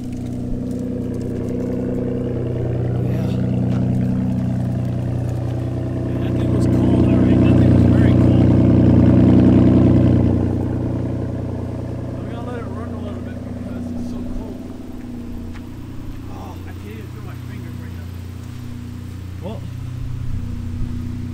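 A 2015 Ford Taurus Limited engine runs after a cold start in freezing weather, a loud steady idle that swells briefly to a higher rumble before settling back, with no talk heard over it.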